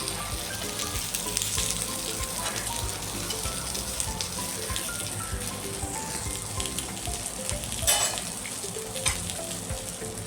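Jowar flour appe cooking in a pan over a low flame, a steady soft sizzle and frying crackle running throughout with occasional small pops, close and moderately loud with no talking.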